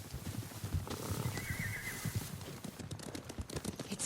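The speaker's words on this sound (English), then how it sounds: "Horses, they're coming for us." Horses gallop in the video game Ghost of Tsushima, with dense thudding hoofbeats and a whinny partway through, all loud and close.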